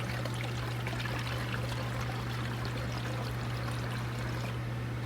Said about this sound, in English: pour a little bit of water in